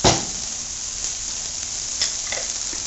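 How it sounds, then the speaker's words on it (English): Swordfish browning in olive oil in a pan gives a steady, close sizzle. A sharp hiss opens it, and a few faint clinks sound over the continuous frying. "I'm going to brown the swordfish"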